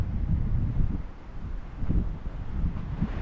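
Wind blows steadily outdoors at the replica of Fort Toulouse, an old French fort, a low continuous rumbling gust buffeting the microphone with soft rustling and no voices.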